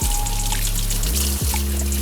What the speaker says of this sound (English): we are going to take our asparagus and we are going to rinse it